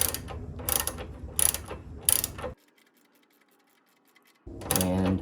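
A ratchet and socket work a spark plug on a Kohler M18 tractor engine, giving four close, sharp clicking bursts, then near silence for about two seconds before another short burst of mechanical clicking.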